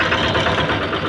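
A VST power tiller tractor engine idling close by, a steady loud chugging rumble with even rapid pulses and no pauses.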